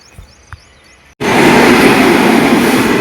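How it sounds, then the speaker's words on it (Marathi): A Vande Bharat train rushes past at close range, a sudden loud roar of wheels and rushing air cutting in after a quiet moment and holding steady to the end. "ही वंदे भारत ट्रेन आहे"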